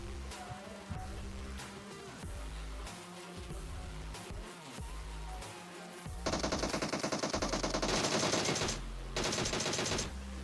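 Mini14 and DP-28 fire in a video game, heard as scattered single shots followed by rapid sustained automatic bursts, loud and close, with no talk over them.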